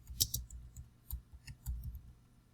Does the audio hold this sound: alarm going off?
no